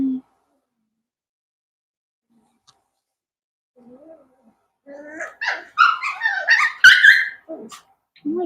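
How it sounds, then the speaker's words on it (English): Young Cavalier puppies let out a burst of high yips, whimpers and small barks after a long quiet pause, close by and loud in a kennel setting. "Oh my goodness, puppies."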